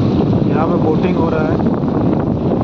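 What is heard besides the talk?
strong wind blowing at a dam near Hundru Falls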